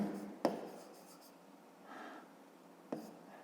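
Pen writing by hand in a notebook during a fifth-grade math exercise, with two sharp taps and short scratchy strokes, close and quiet, with no talking.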